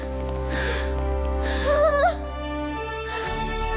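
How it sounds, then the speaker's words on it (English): A crowd at a royal court in an animated fairy tale gasps together, a brief breathy swell of voices rising over soft sustained orchestral music. "A gasp ran through the court."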